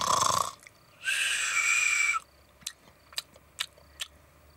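A voice imitates a man's snoring with two rasping, breathy snores, a short one and then a longer drawn-out one, followed by several quick soft clicks and snuffles, close and alone.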